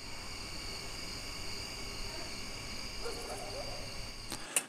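Crickets chirp in a steady layered drone as part of a film sound mix, with faint road ambience beneath and a brief sharp click near the end.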